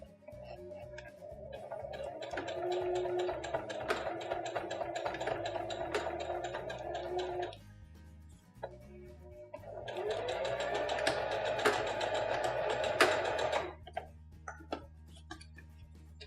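A sewing machine runs a straight stitch along a cloth pocket diaper, a steady whirring hum for several seconds, a short pause, then another sustained run at close range with no talking.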